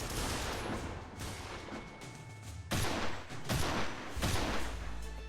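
Rifle fire in the dinosaur shooter game Primal Carnage comes as sustained bursts of loud, close gunshots that run almost without pause, with sharp peaks as volleys overlap.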